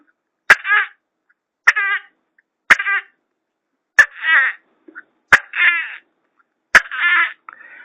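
A human voice imitates the call of a tokay gecko. Six sharp, separate croaking calls each open with a click and come at a steady pace. The calls are close and loud against silence.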